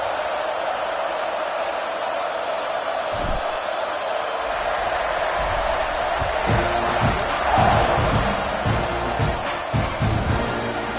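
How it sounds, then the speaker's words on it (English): A stadium crowd at a college football game, Cincinnati against A&M, buzzing after a score: a dense, continuous roar of many voices at a distance, swelling slightly midway, with scattered louder shouts and thumps. "this crowd is buzzing after that last score"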